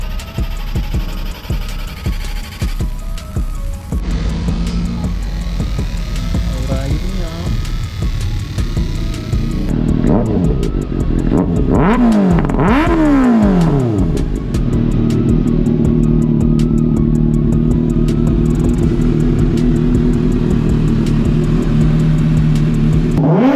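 Kawasaki ZX-6R motorcycle engine fitted with an Orion muffler, loud and close, idling with a throbbing hum and then rising and falling through several sharp revs before settling into a steady high drone.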